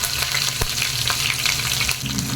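Cashews and a sprig of curry leaves frying in hot oil in a pan for temple-style ven pongal, a steady loud crackling sizzle with a few sharp pops and stirring scrapes, no talking.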